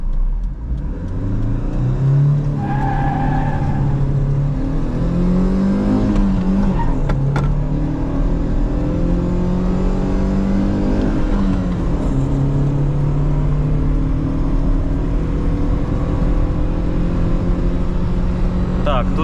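A Daewoo Lanos with a 1.6 engine accelerates hard from a standstill during a timed run, its engine note climbing through several gear changes, loud and close inside the cabin, with people speaking over it.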